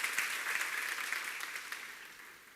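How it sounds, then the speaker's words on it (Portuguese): Church congregation applauding during a Holy Communion service, a steady, fairly soft wash of clapping that holds throughout and fades slightly toward the end. "Diga amém, dê um aplauso"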